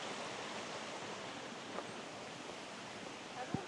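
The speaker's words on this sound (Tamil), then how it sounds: "அந்த மாதிரி ஓடையெல்லாம் கடந்து தான் வரோம்." Water from a stream flows steadily along a trekking path to a waterfall in Mexico, a soft, constant rushing wash with a couple of faint knocks near the end.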